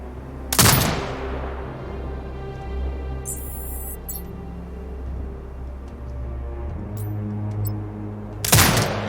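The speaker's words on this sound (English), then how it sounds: "Exit binocular mode and command the turret to fire." Turret in the video game Sniper Ghost Warrior Contracts 2 firing at tagged hostiles: two loud, sharp bursts of gunfire, one near the start and one near the end, over a low steady background hum.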